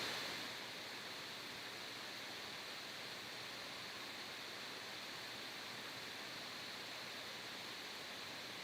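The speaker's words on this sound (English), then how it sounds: "You'll probably hear a bit of hissing in the background. That's just from my laptop fan." A laptop cooling fan gives off a steady, even hiss that runs unchanged through the whole stretch as a quiet background bed, with no voices over it.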